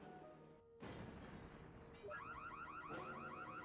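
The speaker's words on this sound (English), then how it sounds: "Prisoners escaping. Alarm, alarm." A video game alarm blares in a prison escape scene, a loud wailing siren that cuts in abruptly and repeats in rising sweeps over a rumbling background, with no talk.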